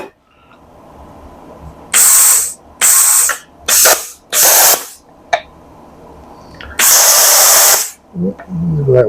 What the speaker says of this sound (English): let's clamp her like so and get the plasma cutter